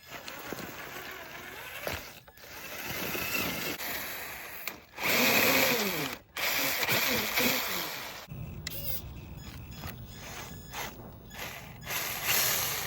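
Traxxas TRX4 RC truck drivetrain whirs and ratchets in four-wheel drive, a close mechanical grinding of gears rising and falling in bursts, with someone talking in between.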